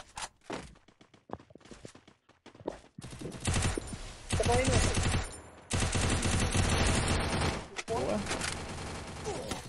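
Gunfire in the Free Fire video game comes in scattered shots at first, then dense bursts of rapid automatic fire, loud and near, mixed with player voices talking over the action.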